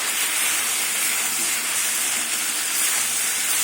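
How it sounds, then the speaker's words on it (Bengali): Ginger paste fries in a pan before spinach goes in for a spinach curry, giving a loud, steady, close hiss that holds without break throughout. "আদাটা বেশি ভাজবো না"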